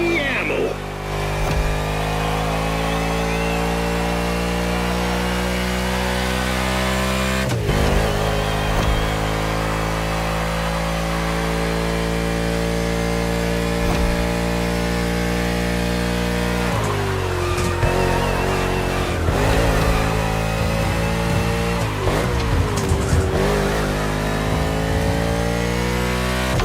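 A race car engine in the NASCAR Motorfest video game drones loud and steady, its pitch climbing and dropping as it accelerates through corners, with brief gear-shift dips and bursts of revving throughout.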